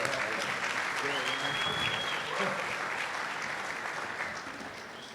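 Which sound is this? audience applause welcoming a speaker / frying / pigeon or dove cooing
audience applause welcoming a speaker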